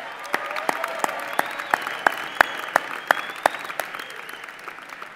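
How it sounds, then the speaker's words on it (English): Audience applauds athletes at a winter undergraduate commencement ceremony, a moderate spread of clapping with distinct sharp individual claps standing out, steady throughout. "So let's give our athletes a big round of applause."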